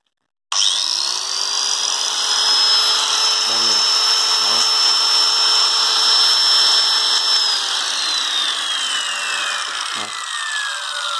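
A Japanese-made 100V handheld electric power tool from 1987 runs continuously with a steady, smooth motor whine. It starts abruptly and holds a close, loud drone with a sustained high tone, and no one speaks.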